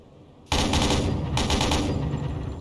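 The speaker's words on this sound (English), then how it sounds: "Let me see the flak gun. I will find out what sound it makes now." Submarine flak gun in the naval game Uboat opens fire abruptly, a loud continuous burst of rapid shots, with the clatter surging twice and holding to the end with no talk.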